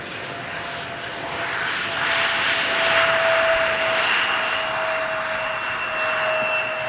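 An airliner touches down on runway 18R at Amsterdam Schiphol, a steady, fairly loud jet roar with a thin sustained whine running throughout, swelling slightly mid-way, with no voices.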